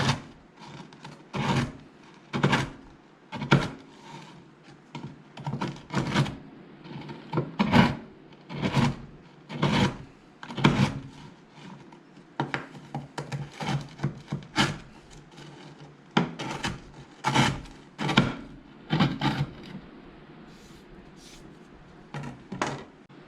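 A knife roughly chops black tea biscotti on a board, giving a long series of irregular, close, dry knocks and crunches with short pauses between bursts, no talking.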